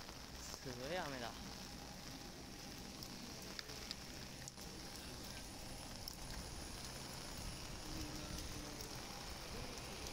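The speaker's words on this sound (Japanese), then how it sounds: "すごい雨だ。" Heavy rain at Osaka Itami Airport hisses steadily as a wash of patter and drips, with a faint engine drone and a voice speaking briefly over it.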